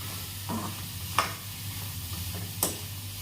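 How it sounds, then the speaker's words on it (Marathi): Onions sizzle quietly in a wok as a spatula scrapes and stirs, with three distinct scraping strokes spaced a second or so apart. "आता छान मी कांदे परतून घेत आहे याच्यामध्ये, कढईमध्ये."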